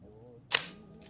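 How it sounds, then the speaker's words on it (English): A vintage camera shutter fires once, a sharp close mechanical snap standing out alone over a faint hum, with a short softer rattle trailing after it. "Listen to this shutter."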